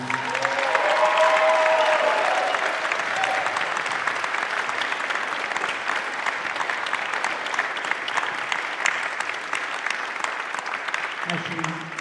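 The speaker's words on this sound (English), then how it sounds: "Just give Shelby a round of applause" A sustained round of applause from a community band audience for a departing doctoral student leader, steady dense clapping filling the room and fading slightly toward the end.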